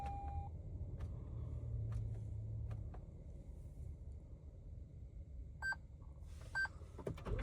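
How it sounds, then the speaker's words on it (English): Short electronic beeps from PIN entry on an IGLA anti-theft system in a 2021 Toyota Land Cruiser 200 Series, a few quiet tones near the end over a low engine hum inside the cab. "Enter our PIN code again."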